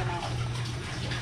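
Water pours steadily into a pot holding fish, ginger, onion, mango and kangkong for sinigang, a close rushing splash under brief talk.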